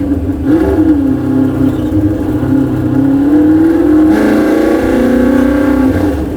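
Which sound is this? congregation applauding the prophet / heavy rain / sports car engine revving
sports car engine revving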